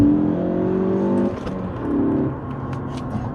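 Ford Focus ST hot hatch under heavy acceleration, a loud, steady engine drone that dips briefly partway through as if shifting, then pulls strongly again, heard alone without talk.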